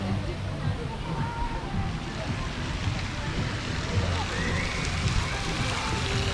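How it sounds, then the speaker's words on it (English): Water sprays from a Mickey fountain on a rock down into a resort pool, a steady rushing splash and slosh under gusting wind, close and continuous, with voices faintly in the background. "Over here, got Mickey up on the rock, and he's spraying the water down on us"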